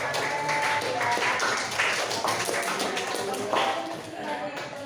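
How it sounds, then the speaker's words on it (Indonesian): An audience claps for a person named Farel during a Catholic church lay-ministry session, producing steady, dense applause throughout, with voices mixed in. "Tepuk tangan buat Farel."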